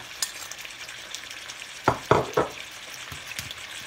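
Curry paste frying in a pan while seasonings like MSG and sugar are added, a steady soft sizzle broken by a few sharp scraping stirs near the middle, close and fairly quiet with no talking.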